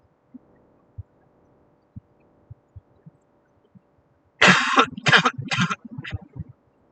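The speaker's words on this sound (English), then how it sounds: "Me and my silly little cough still here." Three or four harsh coughs in a quick burst, close and fairly loud, after several seconds of faint taps and near silence.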